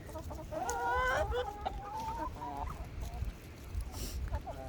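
Several chickens cluck and squawk close by, a burst of loud calls early on followed by softer intermittent clucks and rustling.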